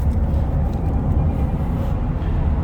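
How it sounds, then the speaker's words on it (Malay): Steady low tyre roar and road rumble inside a Toyota Veloz, heard from the third-row seat right over the wheels, a continuous even drone with no talk. "Bila duduk di row ketiga, kita boleh dengar bunyi tayar sedikit."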